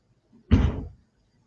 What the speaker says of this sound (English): it's a car door or a trunk. Something is closing.